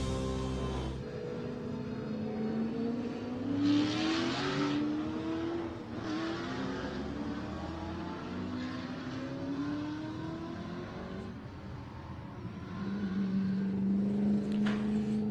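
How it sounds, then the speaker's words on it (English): Sports sedan race cars lap Phillip Island circuit in a Victorian championship session, engines rising and falling in pitch as several cars pass by at mid distance, a steady mechanical roar with surges of acceleration and no talk. "Sports Sedans on track now for the QP Lubes Victorian Sports Sedan Association Championship"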